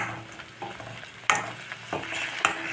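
Vegetables and grated coconut sauté in a pan for aviyal, a soft steady sizzle broken by sharp scraping stirs of a spoon against the metal, close up.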